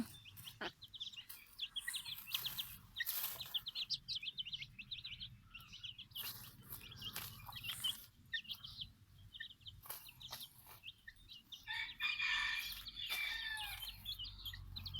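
A Silkie hen with chicks gives soft clucks and repeated high chirps, the peeps coming in scattered bursts with quiet gaps between them and a livelier cluster near the end.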